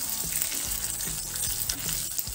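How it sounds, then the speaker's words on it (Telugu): Byadgi chillies sizzle and crackle in hot oil during tempering, a steady close frying hiss with small pops and occasional stirring scrapes, no voices. "ముక్కలుగా వీటిని కూడా వేసి వేయించుకోవాలి"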